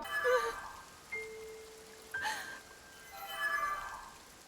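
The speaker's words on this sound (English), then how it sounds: "In both games, the Master Sword makes this sound." The Master Sword from Zelda: Breath of the Wild and Tears of the Kingdom gives off a soft shimmering chime with a faint sustained tone, rising and fading in gentle swells over a hushed, airy background.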